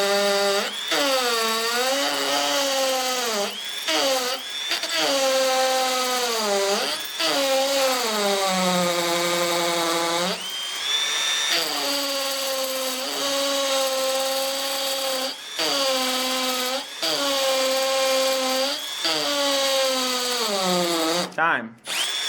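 A Milwaukee 12V cordless hammer drill on hammer mode and high speed runs almost continuously, its whine rising and dipping with brief pauses between bursts as it bores two holes, loud and close.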